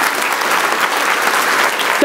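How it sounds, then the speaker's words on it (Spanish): Dense, loud applause fills a church as the congregation claps steadily throughout, a continuous crackling wash of many hands with no voices over it. "Dele un aplauso a Jesucristo por la gloria es de Él."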